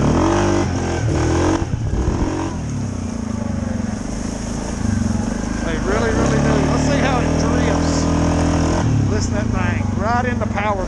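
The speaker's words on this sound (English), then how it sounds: "These four-wheelers go anywhere I want them to on stock tires." Suzuki KingQuad 750 four-wheeler ATV engine running on stock tires, a loud, steady near rumble that rises and falls through the clip, with voices talking over it.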